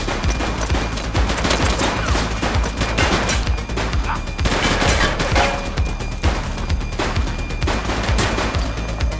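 Dense, loud gunfire fills a police shootout in the video game The Precinct, with rapid bursts of shots and crashes running continuously throughout.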